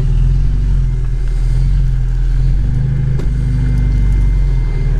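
Lada Niva 4x4 fitted with locking differentials, driving off-road on a nature outing, gives a loud, steady low engine drone with a continuous rumbling hum and no distinct rev changes, no voices.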